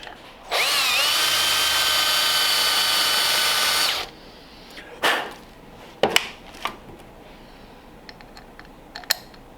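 A power drill whines steadily for about three seconds, driving a screw into the bed of a 1929 Ford Roadster pickup, then stops; a few close clicks and knocks of handling follow.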